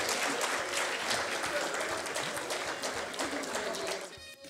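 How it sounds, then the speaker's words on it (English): Audience applause rings out at a Pak-Swiss cultural event at the Alhamra Art Council, a fairly soft but steady patter of many hands clapping that thins out and fades at the very end. "A huge round of applause for each and every one of them."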